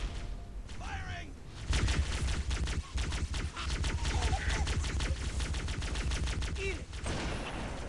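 Sustained automatic gunfire in Halo: Combat Evolved, a fast rattling stream of shots that starts after a quieter opening and runs continuously, with occasional game effects over it.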